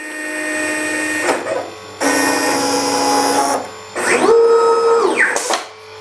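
A machine drives a two-ended felt tip marker across foam board, plotting a model plane plan: loud, continuous whirring and buzzing motor tones that shift in pitch as it moves, with brief pauses between strokes.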